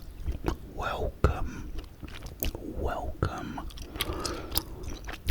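Close-up gum chewing recorded for ASMR, with wet, clicky mouth sounds repeating steadily and intimately near the microphone, under soft whispered speech.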